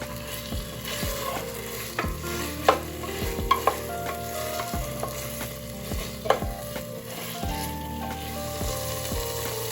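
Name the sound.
frying tomatoes and spices in oil, okra meat curry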